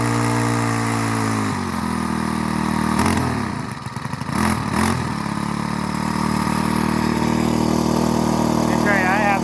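A Craftsman 21 or 22 inch push mower engine runs steadily at full throttle on a cold spring day, loud and close, with a brief dip and rattle partway through and someone talking over it.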